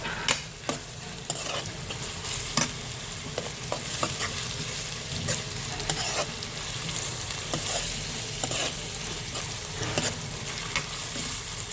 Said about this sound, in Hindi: अच्छे से इसको मुलायम कर लेंगे प्याज को